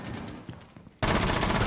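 Gunfire in Rainbow Six Siege, a few muffled shots followed by a sudden loud, dense burst of rapid fire that fills the last half second.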